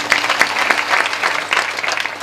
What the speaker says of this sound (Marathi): दोघांसाठी एकदा सर्वांनी टाळी वाजवा